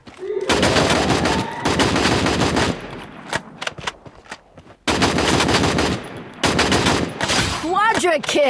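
MP5 submachine gun fire in a mobile battle royale video game, long loud automatic bursts separated by short pauses and a few single shots, with faint in-game effects.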